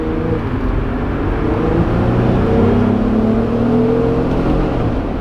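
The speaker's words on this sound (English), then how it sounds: "Let's see, acceleration." A highly modified Jeep Rubicon JL accelerating, its engine droning steadily with a rising whine as revs climb, heard loud and close from inside with no talking.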